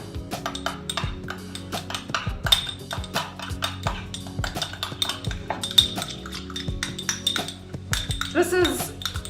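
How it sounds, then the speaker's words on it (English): A spoon clinks and scrapes around a bowl while sauce for a baked salmon and avocado sushi roll is stirred, a busy, close run of metallic taps and rattles. "Stir that up."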